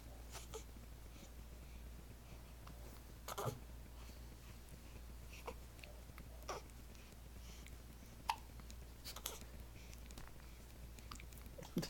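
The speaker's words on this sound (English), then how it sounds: "What happened to those hiccups" A baby hiccups in a quiet indoor room, with faint, sharp little hiccups scattered at irregular intervals over a low steady background hum.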